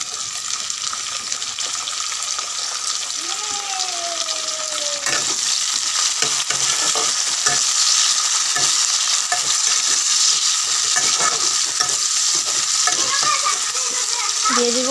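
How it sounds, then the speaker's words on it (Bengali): Tomato goes into onions frying in a pan for a village-style rupchanda fish curry, giving a steady loud sizzle with scraping stirring strokes throughout. "এবার দিয়ে দিব টমেটো।"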